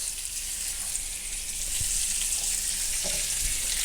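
Squash sizzles in hot olive oil in a skillet with a steady, bright hiss that grows slightly louder partway through. A few soft taps and shuffles come through it.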